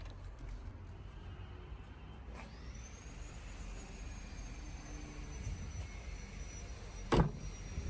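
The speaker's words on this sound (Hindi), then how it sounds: "1 touch up down power Windows है एंटी ट्रैप के साथ" One-touch power window with anti-trap on a 2023 Land Rover Defender 130 HSE gives a faint electric motor whine that glides up and holds, heard close but quiet over low cabin hum, ending with a soft thud.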